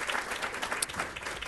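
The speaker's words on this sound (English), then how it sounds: "Please give Todd a big round of applause." Audience clapping for a speaker being introduced at a media industry panel, a brief, fairly faint patter of applause from a room.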